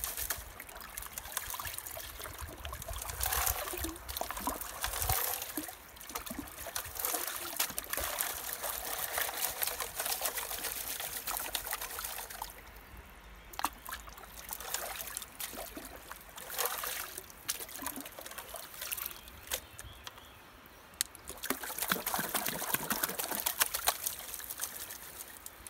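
Water runs steadily through a Gold Hog flow pan sluice, a continuous close trickling and splashing wash over the riffles with occasional louder surges and handling noises, no talk.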